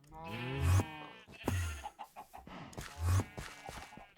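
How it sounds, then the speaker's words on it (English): Minecraft chickens from the ATM10 modpack cluck in a few short bursts, loud and close, with other farm-animal sounds mixed in and no talking. "Grab these last 2 chickens."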